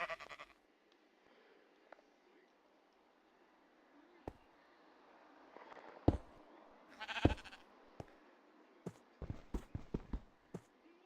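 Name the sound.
sheep bleating in the video game Minecraft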